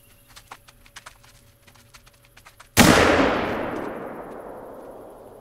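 A single hunting rifle shot in the hunting game theHunter: Call of the Wild cracks loudly and rolls off in a long decaying echo, preceded by quiet footsteps and rustling.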